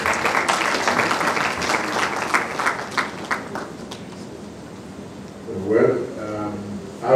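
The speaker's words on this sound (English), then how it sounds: "Another round of applause for the president." Applause for the president at a conference opening ceremony, a steady wash of clapping from the audience that fades in the middle before voices and some renewed noise rise near the end.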